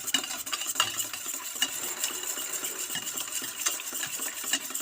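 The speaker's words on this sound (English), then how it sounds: "Now stir it in." Vitamin E oil stirred into a homemade herbal hair cream, soft repeated scraping and clicking of a utensil against a container, close and steady with no talk.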